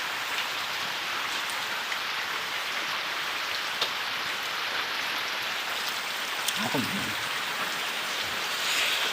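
Steady rain falls and patters on surfaces close by, a dense, even hiss with scattered droplet taps throughout, heard alone with no talking.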